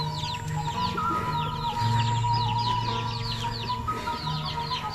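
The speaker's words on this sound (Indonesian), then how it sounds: "Kang Uyut nih ternak ayam nih teman-teman" Chickens on a rural Sundanese village poultry farm cluck repeatedly in a busy, overlapping chorus, fairly close, with a steady low hum and a few louder squawks running underneath.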